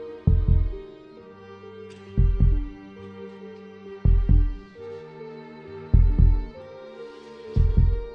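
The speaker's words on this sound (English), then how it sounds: "I am a heartbeat." Slow, deep heartbeat pulses, each a double thump, recurring about every two seconds over a sustained musical drone, loud and close with no voices.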